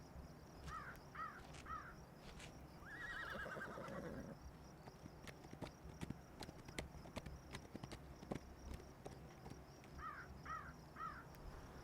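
Horses whinny several times in short rising calls while hooves clip-clop unevenly in the background, with crows cawing and insects buzzing faintly throughout a quiet outdoor scene.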